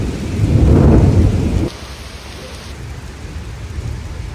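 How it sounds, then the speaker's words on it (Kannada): Heavy rain pours down loudly with a rumble of thunder, dropping abruptly to a softer steady patter of rain, with no voices. "ಖುಷಿ ಆಗುತ್ತೆ ಮಳೆ ಬರ್ತಾ, ತುಂಬ ಚೆನ್ನಾಗಿದೆ. ಆ್ಯಕ್ಚುಲಿ ಸಿಕ್ಕಾಪಟ್ಟೆ ಶೆಕೆ ಇತ್ತು, ಫುಲ್ ಜೋರು ಮಳೆ ಬರ್ತದೆ."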